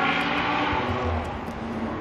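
A race car passes at a distance during a race, engine drone swelling and fading briefly, moderately faint against outdoor background.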